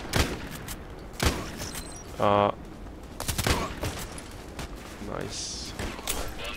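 FN SCAR-L rifle shots in the shooter game Contract Wars: several sharp, loud single cracks spaced a second or two apart, with a short burst in between and a brief spoken remark.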